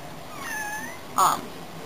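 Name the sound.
cat meowing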